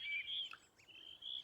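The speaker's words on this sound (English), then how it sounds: "listen to the birds" Bird chirping in a bright, thin song by a river in the Kent countryside at Horton Kirby, faint and alone with a few quick notes.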